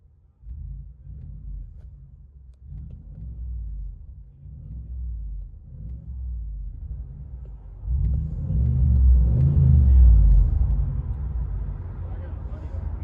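Inside the cab of a Ford F-250 6.2L with a muffler-delete exhaust, a low engine drone rumbles under people talking, swelling into a louder rev near the end before easing back.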